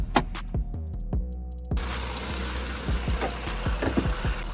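A police SUV's 3.7 liter V6 with 144,000 miles cranks with a few whirring turns, catches and settles into a steady, rumbling idle close by.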